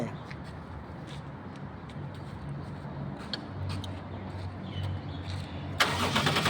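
A 1999 Toyota Sport Rider engine with a newly rebuilt engine cranks and catches, then settles into a steady low idle; a sharper, brighter burst of noise rises near the end.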